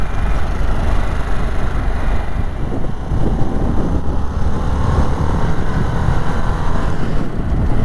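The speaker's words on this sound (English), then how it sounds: "The engine is this bike's strength." A Harley-Davidson Sportster S 1250 engine drones continuously while riding, loud and steady under heavy wind rush, with no voices.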